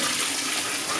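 Liquid bark dye bath being poured off from a pot of Shetland fibre, a steady continuous splashing stream of water, close and fairly loud throughout with no talking.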